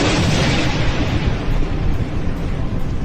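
Explosions from Iranian missile strikes on Israeli cities such as Tel Aviv, Haifa and Beersheba make a loud, continuous booming roar that rumbles on without a break for about three seconds, with no voices.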